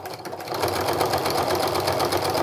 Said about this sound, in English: I'm taking a really generous 1/4 inch seam. I'm going to reinforce those stitches.